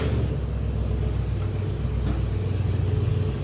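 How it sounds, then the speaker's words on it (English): A truck engine firing up and running with a loud, steady low rumble close by, a continuous throaty idle with no voices. "Oh, there's Noah firing his truck up."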